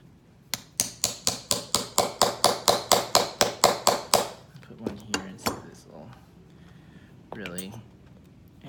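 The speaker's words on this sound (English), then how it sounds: "I'm hammering these in kind of at an inward angle too." A quick, even run of about fourteen sharp hammer taps as pegs are driven into a shoe heel, followed by a few slower, lighter strikes and a brief voice near the end.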